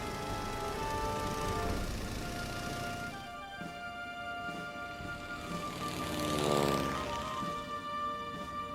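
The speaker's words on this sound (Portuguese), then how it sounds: "Estas imagens de 1909 registram a primeira vez em que 3 aviões voam em tímida formação." Three early 1909 propeller airplanes fly in formation, their engines droning in a sustained buzzing tone that swells and shifts in pitch as one passes nearby, then eases back.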